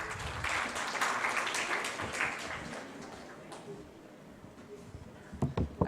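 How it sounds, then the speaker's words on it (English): An audience at a studio talk show gives a round of applause, clapping at moderate volume that slowly tapers off, ending in a few scattered claps. "بہت ساری تالیاں ان کے لیے."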